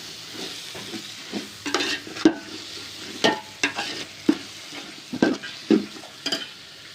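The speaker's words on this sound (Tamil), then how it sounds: "நாம் எடுத்து வச்சிருக்கிற தக்காளி, அது கூடவே ஒரு கப் தயிர், ரெண்டையும் சேர்த்து நல்லா வதக்கிக்கணும்" Chopped tomatoes and yogurt being sautéed in a pan for beef biryani, soft sizzling under repeated scraping and stirring strokes, each stir a brief irregular burst over a low frying hiss.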